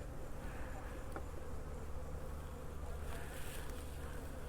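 Honeybees hum steadily at an open hive during an inspection after a split, a continuous, fairly faint drone with no talking.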